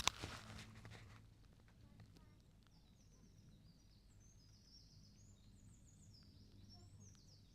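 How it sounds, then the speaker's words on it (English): Birds sing faintly outdoors in a mountain village on Mount Mitake near Tokyo, with distant high chirps and trills over a quiet, light background after a brief handling knock at the start. "if you listen, you can hear the birds."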